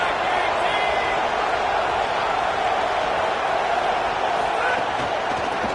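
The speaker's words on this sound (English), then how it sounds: "Listen to this crowd just shaking the girders of this place" A packed college football stadium crowd at a Texas vs Georgia game roars in a dense, continuous wall of noise, cheering loudly to help the defense.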